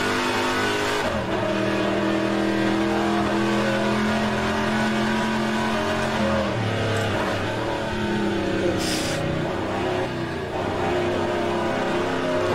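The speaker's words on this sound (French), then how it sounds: "Ah, le son, rien que le son du moteur," Race car engine from the rFactor 2 sim with the Aussie Legends mod, droning steadily near and loud, rising and falling as it revs through gear changes, with a brief burst of higher noise near the end.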